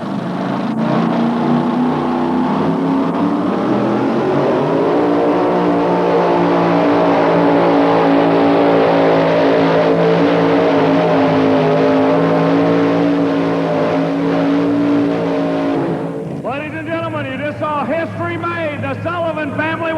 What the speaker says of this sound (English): it's Pat Friels in another one-of-a-kind pulling vehicle, the Dollar Devil 2